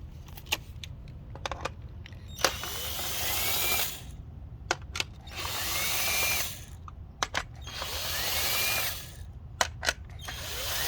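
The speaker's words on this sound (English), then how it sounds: "we're going to go ahead and back out these four bolts" A power tool backs out bolts on a RAM 1500 fog light mount in three sustained whirring bursts, separated by short pauses filled with metallic clicks and clinks of tools and parts.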